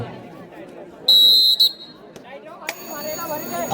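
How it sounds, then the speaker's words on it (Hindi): A loud electronic buzzer-like tone marks the end of a raid at a kabaddi tournament final, sounding for about half a second with a brief second burst, over a busy crowd murmur, followed by louder cheering. "घंटी बज चुकी है, ये खतरे का अलार्म है"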